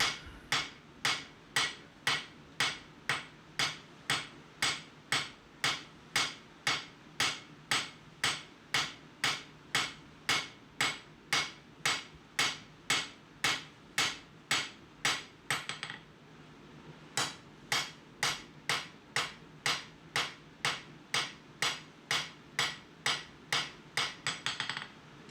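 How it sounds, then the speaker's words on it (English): An English cutler's hammer strikes a forged kitchen knife blade in a steady, even rhythm, several dozen bright metallic blows ringing one after another, up close, with a brief pause partway through before the hammering resumes. "I come back in with my English cutler's hammer to dress all of those peen marks"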